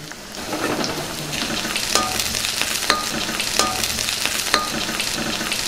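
Onions frying in hot oil with green and dry chillies, a steady close sizzle broken by a few sharp clinks and scrapes of a spoon stirring in the pan.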